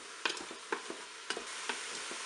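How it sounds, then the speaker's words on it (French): Broccoli and turkey escalope sautéing in a Cookeo multicooker, a steady soft sizzle broken by several rhythmic scraping stirs, close and moderately quiet with no talk. "Là, je vais faire revenir pendant 2 minutes."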